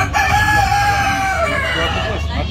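A rooster crows among other chickens at the MAHA 2022 agricultural exhibition, a drawn-out crow rising over a busy, crowded background throughout.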